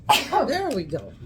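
A person sneezes once, sharp and close, and a voice talks just after it in a casual indoor conversation.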